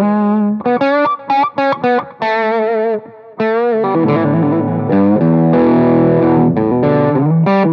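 A distorted electric guitar plays through an amplifier at full volume with no attenuator: loud, saturated chords and short stabs, then sustained, heavily overdriven chords that ring on, with no talking.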